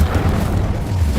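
A short, loud, deep whoosh-boom of the Incendio fire spell being cast in Hogwarts Legacy, a single close burst of roaring flame.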